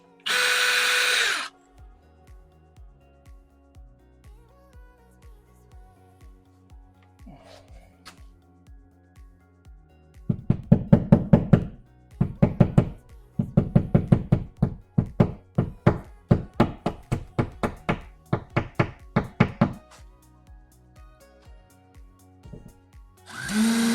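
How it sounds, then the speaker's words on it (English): A power drill bores a hole into drywall for a plastic anchor. Brief loud motor whirs start and end the stretch, with ticking and clicks between and a long run of rapid chattering bursts in the middle. "So I'm going to put a hole in the wall so we get our drywall anchor in and get this thing set up."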